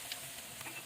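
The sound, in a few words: tempeh chip batter frying in hot oil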